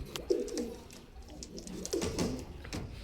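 Teddy pigeons cooing nearby, a pair of soft, throaty rolling coos repeating about every one and a half seconds over faint background noise.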